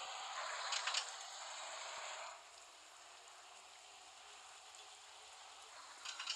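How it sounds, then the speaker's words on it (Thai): Rain patters steadily around a truck's cab, a soft continuous hiss that is louder at first and then eases to a quieter, even fall. "ฝนตกใช่ไหมฝนตกก่อน"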